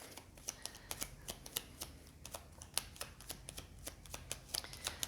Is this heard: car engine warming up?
no